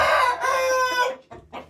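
A young rooster crows loudly and close, a strained drawn-out call followed by a few short clucks.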